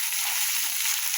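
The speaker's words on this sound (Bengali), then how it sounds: "দিয়ে ভালোভাবে মশলাটাকে কষাতে হবে।" Onion and ginger paste masala sautés in oil, a brief close bright sizzle, even and continuous, with no talking.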